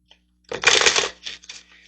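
Tarot cards riffle and shuffle close up in one quick burst of papery flutter, trailing into a few softer slides and taps, with no voices.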